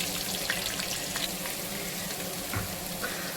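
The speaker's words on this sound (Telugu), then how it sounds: "గరం మసాలాలు వేసుకున్న తర్వాత కొంచెం లైట్గా వేగిన తర్వాత ఇప్పుడు ఆనియన్స్, పచ్చిమిర్చి వేసుకోవాలి." Garam masala, slit green chilies and long-cut onions frying in oil for a kilo of chicken biryani: a steady close sizzle with faint crackles and a few light clinks of stirring.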